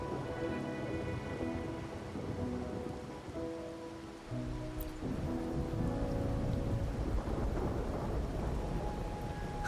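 Steady rain and rumbling thunder from the video game Wuthering Waves, playing continuously under a layer of sustained musical tones, with a louder thunder swell about midway through.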